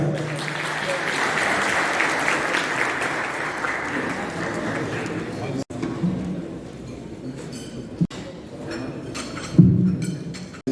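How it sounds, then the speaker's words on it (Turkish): Audience applause at a Malatya Days gathering in Istanbul, steady clapping for several seconds that fades out, followed by scattered clinks and handling noises. "Güçlü alkışlarınızla."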